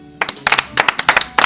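An audience applauding a performer at a Congolese gathering in Paris, a brief burst of uneven clapping from a few nearby hands in quick irregular clusters.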